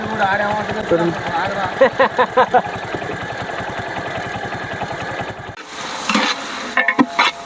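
Onions fry in a pan for a village-style party meal, with a steady sizzle and rhythmic scraping stirs. Clattering and a voice come near the end.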